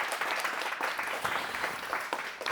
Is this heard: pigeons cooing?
no